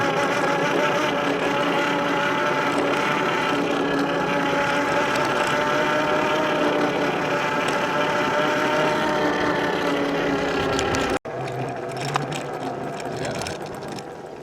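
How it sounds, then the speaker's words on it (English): Yozma IN 10 electric mini dirt bike ridden along an overgrown trail gives a loud, steady motor whine that holds nearly constant, then drops briefly and resumes slightly quieter for the last few seconds. "I wanted to bring it out on the trails to like do a little bit of trail riding with it"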